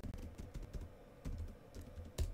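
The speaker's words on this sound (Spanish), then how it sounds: "Escribimos nuestra contraseña" A short run of keystrokes on a computer keyboard as a password is entered, quiet, close-miked taps in an irregular rhythm ending with a sharper final press.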